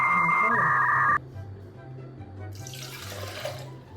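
Tap water running into a measuring cup, about 250 ml: a loud steady tone cuts off, then a low hum lingers before a soft rushing pour of water rises for the last second and a half.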